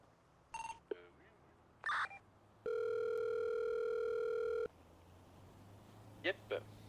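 A steady telephone dial tone holds for about two seconds, loud and alone, between short electronic beeps and keypad-like chirps at the start and end.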